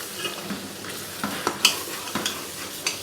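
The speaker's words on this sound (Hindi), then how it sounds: "मसाला हमारा भून गया है, इसके अंदर आलू ऐड कर लेते हैं। चलें जी, आलू मैंने ऐड कर दिए हैं।" Potatoes stirred into frying masala for an egg and potato curry, with a steady sizzle under several scraping stirs of a spoon against the pan, fairly close and moderately loud, no talking.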